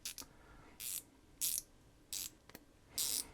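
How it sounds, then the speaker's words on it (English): A 1/4 inch mini 90-tooth ratchet clicks in short, crisp bursts, about five quick buzzing ratchet sweeps with brief pauses between, close up and quiet. "And that is a pretty nice feeling ratchet."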